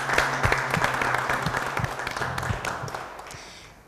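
An audience at an entrepreneurship competition final claps for a finalist, dense applause that starts strong and gradually fades toward the end, with a few sharper individual claps standing out.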